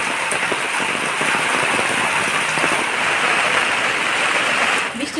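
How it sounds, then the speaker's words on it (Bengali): A heavy downpour falls on a home courtyard where water is pooling. The dense, steady hiss of rain stays loud and close throughout, with no talk. "সেই বৃষ্টি হচ্ছে, বাড়ির উঠানে দেখেন পুরো জল জমা যাচ্ছে"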